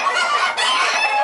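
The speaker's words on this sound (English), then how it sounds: "There's chaos in the hen house." Chickens in a hen house cluck and crow in a loud, chaotic, overlapping burst lasting just over a second.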